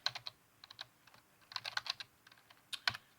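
A username being typed on a computer keyboard, quick bursts of close, crisp key clicks separated by short pauses, with no talking.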